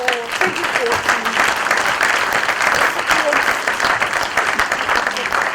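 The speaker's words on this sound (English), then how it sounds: "Ladies and gentlemen, can we have another round of applause for our 2014" Steady, dense audience applause at a university Vice-Chancellor's awards ceremony, sustained and fairly loud throughout with faint voices beneath it.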